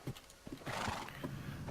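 Horses in a video game snort and whinny near a corral, with soft hoof clops and a steady breathy rumble, loud and close, with no talk over them.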